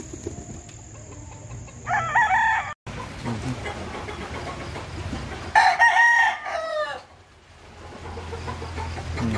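Boston sweater roundhead gamecocks on a game farm crow loudly twice close by, with clucking and other birds in the background.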